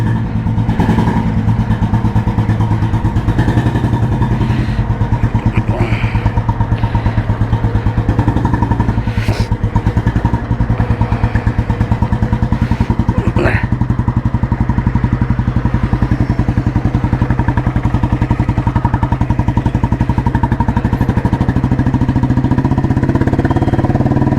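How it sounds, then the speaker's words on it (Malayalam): An old Royal Enfield Bullet with a heavy crank and an indoor silencer idles close by, its exhaust thumping in a steady, loud, continuous beat with occasional mechanical clatter. "അപ്പോൾ ഇതിൻ്റെ എക്സോസ്റ്റ് നോട്ടാണ് കേൾക്കുന്നത്."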